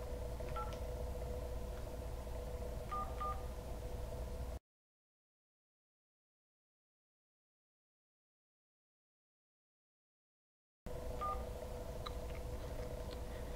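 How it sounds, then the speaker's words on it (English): Motorola Renegade V950 flip phone keypad tones heard while T9 text is typed, with short dial-style beeps scattered irregularly over a steady hum, broken by a long silent gap midway. "This phone uses T9 texting like any other flip phone, so it's famously slow in texting speeds."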